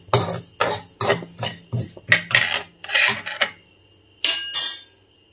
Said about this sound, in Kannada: ಸಾಸಿವೆನ ಫ್ರೈ ಮಾಡ್ತಾ ಇದ್ದೀನಿ